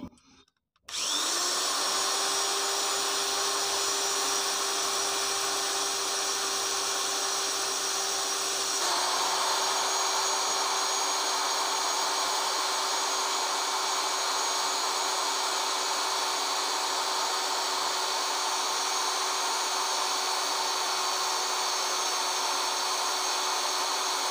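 A drill machine boring a hole through a bicycle handlebar, a steady high-pitched motor whine running continuously and loud for the whole stretch, with a slight drop in pitch partway through as the bit bites.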